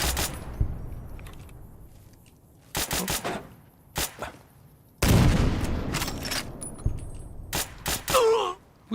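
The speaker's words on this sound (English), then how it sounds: "Who the fuck is shooting me?" Bursts of modded Fallout: New Vegas gunfire from unseen enemies shooting at the player, sharp volleys clustered in several groups with quiet gaps between, loud and close.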